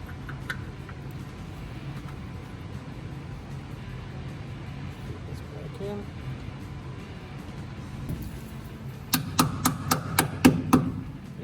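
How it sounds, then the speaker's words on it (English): Hammer tapping the tabs on a new disc brake pad during a 1966 Mustang disc brake swap, a quick burst of about six sharp metallic taps near the end, following a stretch of quiet workshop background. "They recommended to tap these tabs with a hammer so the pad won't move around a lot."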